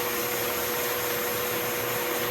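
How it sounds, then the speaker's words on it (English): A wood lathe spins at 500 rpm while an Omega fountain pen is worked and finished with wax, a loud, steady whirring hum with a faint gritty texture, continuous and unchanging. "I'm just going to start the lathe 500 revs"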